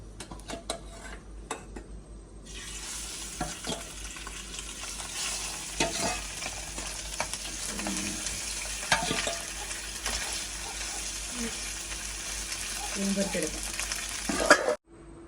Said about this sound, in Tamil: இந்த ஒட்டி மீன் வந்து நான் பிரட்டி வச்சோம்னா அதையும் வந்து பொரிச்செடுப்போம்